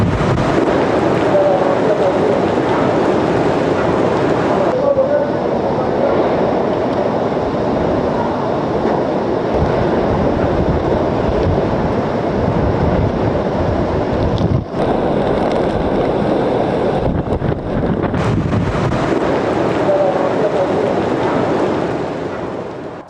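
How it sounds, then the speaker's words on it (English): Hurricane-force wind gusting near Miami Beach, a loud, continuous broadband roar that buffets the microphone, with brief dips and surges as gusts rise and fall, accompanied by heavy rain. "There are bursts of heavy rain, gusts of strong winds and some localised flooding."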